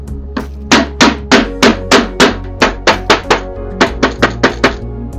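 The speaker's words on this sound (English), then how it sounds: "So now you take your mallet." A mallet strikes a handmade sandal again and again during sandal making, giving sharp, evenly spaced knocks close by, about fifteen blows with a short pause partway through, and no talking.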